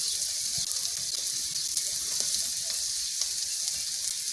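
Chopped onion and garlic fry in hot mustard oil over a stove, giving a steady, loud, close hiss and sizzle that holds for the whole stretch, with no voices.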